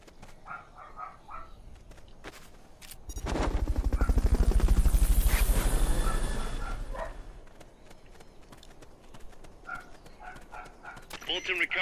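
A recovery helicopter in the video game Metal Gear Solid Peace Walker builds to a loud, steady rotor roar, swelling and fading over several seconds between quieter stretches with game sounds and speech.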